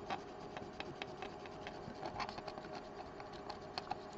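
A damp cotton swab rubs Mont Marte charcoal pencil marks away, making a soft, steady scrubbing hiss broken by small scratchy ticks as it drags across the surface, close and quiet, with no talking.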